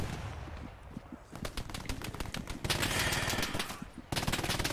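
A German machine gun fires from a house window at an assault on Sainte-Mère-Église in a World War II game, with rapid rhythmic bursts, a short pause, then longer sustained fire at close, loud range.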